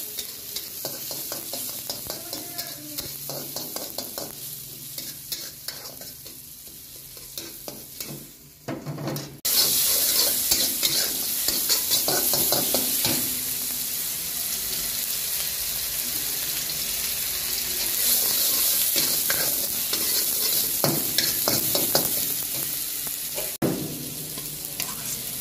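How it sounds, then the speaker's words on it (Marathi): Dal khichdi is stirred and fried in a pan at a busy dhaba, with a continuous loud sizzle and scraping from the ladle. The frying grows louder partway through, and there are occasional clanks of metal. "ते त्यांची दाल खिचडी बनवायला चालू आहे."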